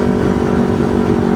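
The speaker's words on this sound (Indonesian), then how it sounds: "Ini karena bunyi knalpot kenceng begini," Carbureted Kawasaki Ninja 250 with a loud racing exhaust, a close, steady droning roar that stays loud throughout.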